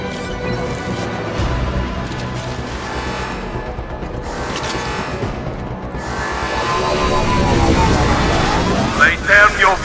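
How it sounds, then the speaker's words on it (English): Gunship in the Mass Effect 2 game roaring overhead, a loud droning engine rumble that swells toward the end amid combat noise and voices talking. "Gunship's back and with full shields."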